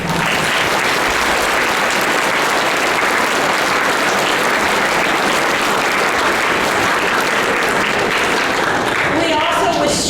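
A concert audience at a school spring concert gives sustained, dense applause that runs unbroken at an even level for about ten seconds.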